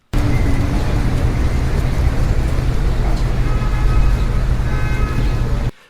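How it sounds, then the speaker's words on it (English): A steady traffic background of passing cars with people chatting, a continuous dense roar that runs unbroken for several seconds and then cuts off abruptly. "So you hear the sounds of cars and people speaking with each other, the sound of air."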